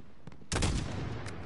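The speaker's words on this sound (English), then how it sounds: "There's a few shots there." A burst of gunfire from the Call of Duty Modern Warfare campaign: a loud cluster of shots over about half a second, preceded by a faint earlier pop and followed by a distant crack, no talking.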